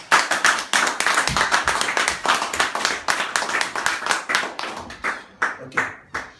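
A church congregation at a Sunday service claps in steady rhythmic unison to acclaim the Lord. The sharp claps are loud and close, then slow and thin out near the end.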